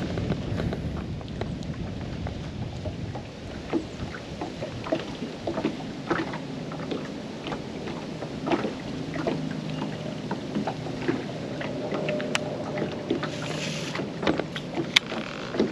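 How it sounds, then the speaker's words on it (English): Strong wind buffets a fishing boat on the Chattahoochee River, a steady broadband rush with gusty swells and scattered knocks and water slaps, continuous and fairly loud with no talking. "We got so much wind."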